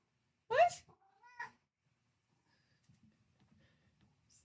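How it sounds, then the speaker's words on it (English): A house cat gives one loud, drawn-out meow up close, followed by a shorter second call, then near silence with faint rustling. "This is a loud kitty."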